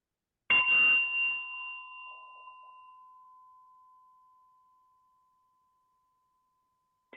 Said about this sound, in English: tell me if you can listen to this bell